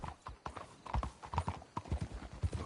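Horse hooves clip-clop steadily in Red Dead Redemption 2, several horses trotting close with an irregular rhythm of thuds and clacks, no talk.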